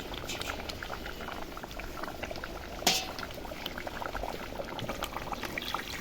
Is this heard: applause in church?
no